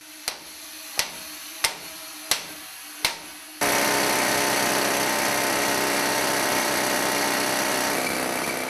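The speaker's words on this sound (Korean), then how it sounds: "금맥을 뚫는 진동은 온몸에 고스란히 전해져 오고" A rock drill bores into a hard gold vein deep in a mine: several sharp metallic hammer knocks ring out first, then the drill roars into a loud, steady, broadband grinding that continues to the end.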